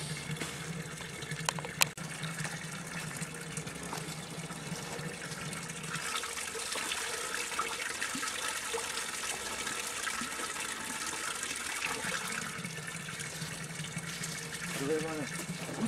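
Water runs steadily from a public drinking fountain, a continuous soft gush and trickle heard at close range, with people talking over it.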